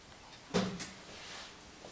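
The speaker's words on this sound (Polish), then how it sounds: "No i to drzwi puka, tato!" Two quick knocks sound on a wooden door, close but fairly soft, against a quiet background.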